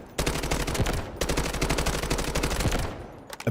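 AK-12 assault rifle in the video game Delta Force firing two long, loud, rapid automatic bursts on a firing range, each lasting over a second with a brief gap between, then a couple of trailing shots.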